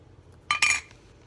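Two quick bright clinks of small metal spoons being picked up and handled beside a mini rubber spatula while preparing a vegan Fritos pie, sharp and close in an otherwise quiet room.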